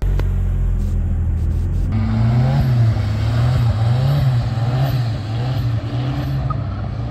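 An F1-style car engine at a racing circuit fires up about two seconds in and then revs in repeated rising and falling swells, loud and close, over a constant rumble.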